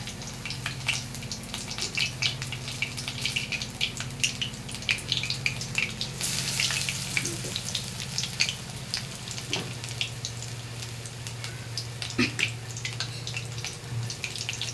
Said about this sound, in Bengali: এর মধ্যে একে একে ঝিঙেগুলো দিয়ে আমি ভেজে নেব।